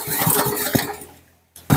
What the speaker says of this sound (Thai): ดึงสตาร์ทนะครับ เร่งเครื่องนิดนึงนะครับ